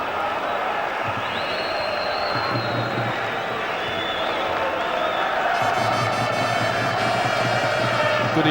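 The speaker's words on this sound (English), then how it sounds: "the noise you can hear, and I'm sure you will believe it, is coming from the Celtic fans" Celtic supporters roar in a packed stadium during a Champions League match against Porto, a constant loud crowd din swelling into louder cheering, with a commentator talking over it.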